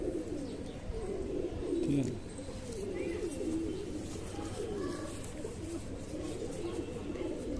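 Pigeons cooing in the evening, a steady overlapping stream of low throaty coos at close range, with soft rustling and faint background sounds.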